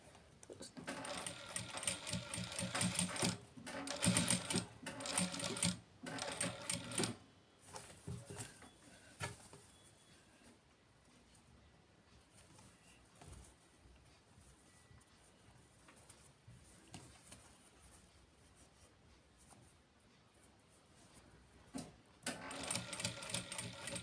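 A sewing machine stitches piping onto a blouse in short loud bursts of rapid mechanical whirring, separated by quieter pauses with soft handling noises, then resumes near the end.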